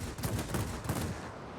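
Rapid bursts of aircraft 37mm cannon fire in the World of Warplanes game, loud and close, a rattling volley over steady engine drone.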